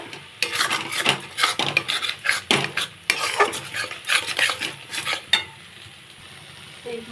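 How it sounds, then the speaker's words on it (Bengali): Spices for a rohu fish and potato kalia being stir-fried in a pan with very little oil, a spatula scraping and stirring in repeated bursts over a steady close sizzle, then easing off into quieter frying near the end. "মশলাগুলো এইভাবে ভালো করে কষিয়ে নিতে হবে, যাতে নিচে লেগে না যায়"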